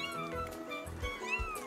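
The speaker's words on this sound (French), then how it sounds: "elle voulait seulement protéger ses chatons" Tiny kittens on a farm in a French Caillou cartoon mew in thin, rising and falling cries, with soft background sound underneath.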